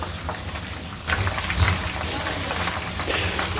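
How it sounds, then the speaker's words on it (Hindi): Chicken dabu deep-frying in hot oil gives a loud, dense, continuous crackling sizzle like heavy rain, swelling slightly after the first second and holding steady throughout. "ज़बरदस्त फ्राई हो रहा है"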